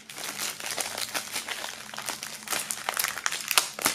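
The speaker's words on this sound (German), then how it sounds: "wir werden dieses ebenfalls mal aus der Folie befreien" Plastic film wrap crinkles and crackles as it is peeled off a box set, a close, irregular rustling with sharp bursts that grow busier toward the end.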